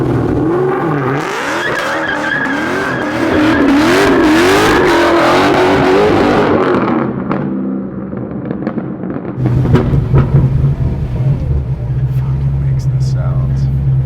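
A loud, throaty 800 hp supercharged 1969 Chevrolet Camaro engine revs and roars with rising pitch sweeps, then settles into a deep, rumbling idle; voices are faintly present underneath.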